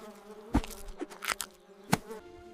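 Cartoon bees buzz around a bear that is raiding their hive for honey, a busy insect drone with sharp louder bursts and swells across a couple of seconds.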